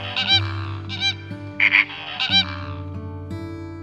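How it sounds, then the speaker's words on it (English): Loud honking bird calls, a flamingo's goose-like cries, come in several bursts over steady background tones, with no talking. "Flamingo,"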